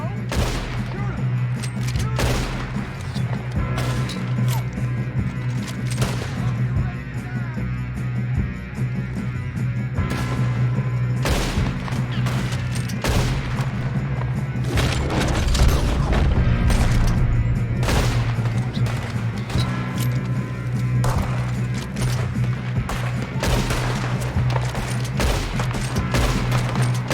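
A continuous gunfight in Red Dead Redemption 2, with rapid overlapping gunshots and booming reports over a steady droning background, dense and loud throughout.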